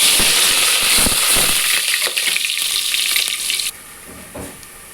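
Mustard seeds, cumin and fenugreek sizzle and crackle in hot oil with onions, a loud, dense frying hiss that suddenly drops away near the end, leaving softer sputters.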